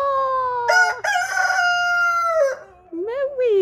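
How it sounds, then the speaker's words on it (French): A rooster crows among hens in a farmyard, one long, loud, drawn-out crow close by, followed after a short gap by a shorter rising call. "Cocorico!"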